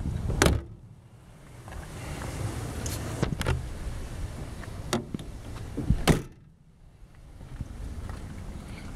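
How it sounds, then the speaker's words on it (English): Several sharp thuds of a 1950 Ford Sedan Delivery's door shutting, one early and a louder slam later, over a low outdoor rumble. "Do this, shut this door."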